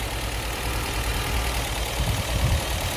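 A steady low engine rumble from a 1971 MG B Roadster with a fully rebuilt engine idles on without change, a continuous mechanical drone close by with no voices.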